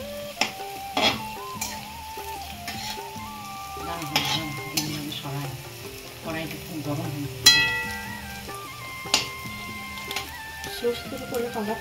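Palm fritters made from palm fruit (taler bora) frying in oil in a home kitchen, a soft continuous sizzle with occasional clinks and stirring, under background music and people talking.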